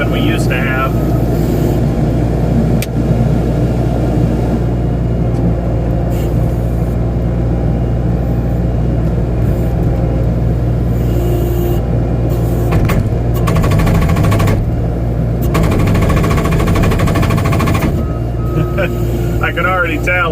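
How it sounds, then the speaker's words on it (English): A hydraulic breaker mounted on a CAT 327 skid steer pounds concrete with a continuous loud engine drone and rapid hammering beneath it, heard close up throughout, with occasional higher machine tones. "Haven't really ran the breaker on this machine."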